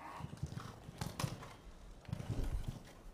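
A show jumping horse's hooves thud in an uneven canter rhythm on an arena surface as it approaches a triple combination at a show, with soft crowd and ambient noise around the hoofbeats and no talking.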